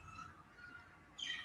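Birds chirp faintly in the background outdoors, a few scattered tweets with a brighter burst near the end, no talking.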